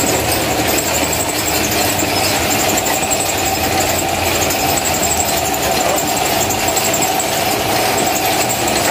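A printing press runs loudly and steadily, a constant mechanical rumble and clatter with no pauses, close by.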